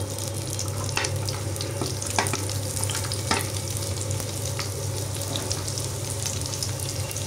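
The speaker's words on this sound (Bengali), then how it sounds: "পেঁয়াজ কাঁচামরিচ আমি একসঙ্গে দিয়ে দিব।" Onion and green chilies frying in about three tablespoons of oil, producing a steady, close crackling sizzle with a few sharper pops, and no voices.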